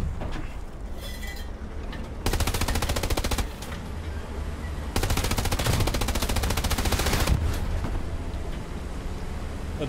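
Rapid machine-gun fire in Hell Let Loose, with long sustained automatic bursts striking a Panzer IV tank's front, steady and fairly close, separated by a short pause, with faint clinking of rounds on armor.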